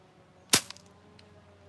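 A single sharp crack from a Daisy No. 155 pellet gun being fired, brief and fairly quiet, followed by a faint metallic tick and near silence, no talking.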